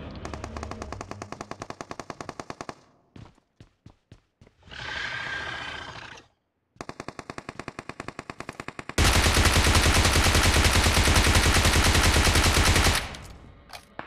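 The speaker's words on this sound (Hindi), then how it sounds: "लाइक साइड में एक बंदा फायर कर रहा होता है" Automatic gunfire in PUBG Mobile, with loud rapid bursts of machine-gun fire broken by short gaps, a brief roaring noise midway, and then a long, dense, sustained volley near the end.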